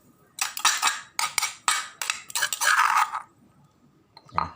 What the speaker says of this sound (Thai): ตักพริกแกงไว้ก่อน